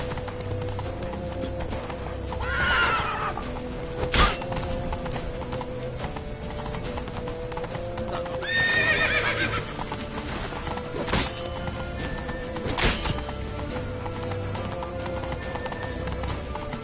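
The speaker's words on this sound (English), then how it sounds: "Grab a horse to the temple!" Galloping hooves clip-clop steadily in a PS4 video game, with a horse neighing twice over the running rhythm, plus a few sharp thuds, and no talking.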